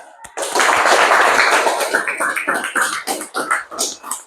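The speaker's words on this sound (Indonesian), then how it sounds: "Kasih tepuk tangan kelompok 2." Classroom applause for a fifth-grade student group in an elementary school, a dense burst of clapping from many hands that thins into scattered, uneven claps toward the end.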